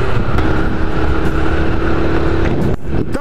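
A transport vehicle's engine roars loudly and steadily up close as it accelerates, with a brief dip near the end that could be a gear change before the engine climbs again.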